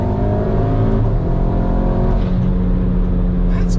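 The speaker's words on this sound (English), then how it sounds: "Like the way it like lugs the engine, so we're gonna go up to 4000." A VW MK8 Golf R with a DBV2 4-inch downpipe runs close and loud in sport mode, its engine a steady, deep droning hum that lugs at low revs and climbs only slightly over a few seconds.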